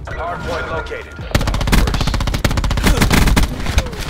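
Rapid automatic gunfire from Call of Duty Black Ops 4 in a 2v2 gunfight match, a loud sustained burst of close shots following a moment of quieter game sound, with brief talk underneath.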